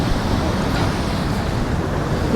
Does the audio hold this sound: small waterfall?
yes